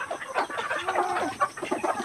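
Native chickens being fed cluck in short, repeated, close calls, several birds overlapping in a steady, busy murmur.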